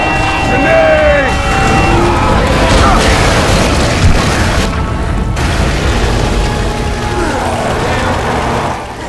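Grenade explosion in the zombie shooter game Left 4 Dead 2, a heavy booming blast amid dense, loud game noise that stays dense and rumbling throughout, with players talking over it.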